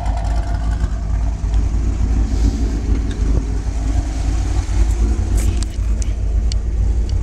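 A 2008 Corvette Z06 with Corsa exhaust, long tube headers and X-pipe idles steadily with a deep, throaty exhaust rumble, close and continuous, with slight rises in revs.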